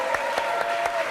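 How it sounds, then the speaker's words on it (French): A television studio audience claps loudly and steadily for two game show contestants, forming a dense, continuous burst of applause throughout. "on peut les applaudir très fort"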